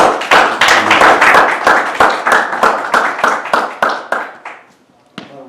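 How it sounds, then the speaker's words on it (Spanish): An audience at an academic seminar in Havana claps to welcome a speaker, a burst of sharp rhythmic clapping from a small crowd in a room that gradually thins and fades out, followed by a final isolated clap. "vamos a darle un aplauso para recibir al doctor"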